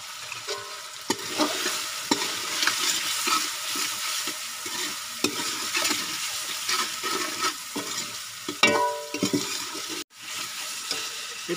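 Red chillies and garlic frying in a pan give a close, crackling sizzle with bursts of stirring and scraping, the sputter rising and falling, then a brief pause near the end.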